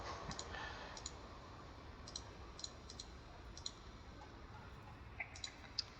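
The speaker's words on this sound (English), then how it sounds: "I'll have to see if I can hear the clicking in post-production" Computer mouse clicked during a Slay the Spire card game, scattered faint light clicks, sometimes in quick pairs, over a quiet background hiss.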